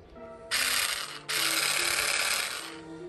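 A Parkside PGSA 4 A2 4V cordless grass and hedge trimmer runs after its safety release is pressed, giving two loud bursts of steady mechanical buzzing and ratcheting separated by a short gap, close by with no talk.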